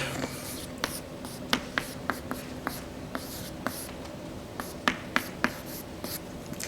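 Chalk taps and strokes on a board during a university math lecture on Fourier analysis, a scattered series of sharp clicks and short scratches at moderate distance over a steady room hum.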